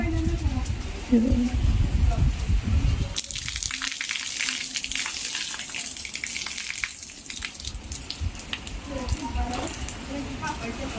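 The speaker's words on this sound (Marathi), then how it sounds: "पाहू शकताय पाऊस, अक्षरशः या कुंड्यांमध्ये तर असं पाणी साठलं." Steady rushing of heavy rain pouring into flower pots and running water splashing, loud and continuous, with a brief spell of voices and clatter near the start.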